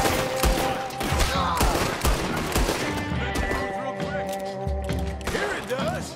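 Gunfire during a Red Dead Redemption 2 fight, with dense, irregular volleys of gunshots and mechanical clatter that stay close and loud throughout. Voices talk over the shooting.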